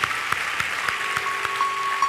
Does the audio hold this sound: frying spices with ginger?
no